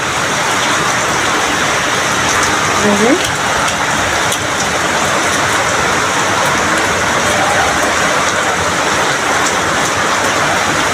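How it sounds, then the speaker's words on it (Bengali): Heavy rain driven by strong wind roars continuously and loudly, dense and unbroken throughout, with faint tonal sounds briefly rising through the downpour. "দেখেন কত বৃষ্টি, প্রচণ্ড বৃষ্টি, অনেক অনেক বৃষ্টি আর অনেক বাতাস।"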